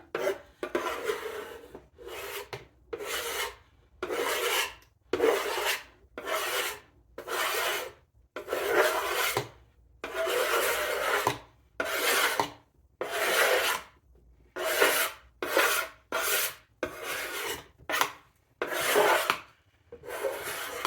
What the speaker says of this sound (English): I'm going to try not to have to scrape all of that part that wasn't touched by paint over here.